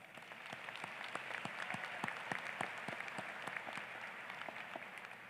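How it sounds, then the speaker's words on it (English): Graduation convocation audience applauding in a large hall, a steady, even wash of many hands clapping at moderate distance, sustained throughout without talk. "Let's give them a round of applause."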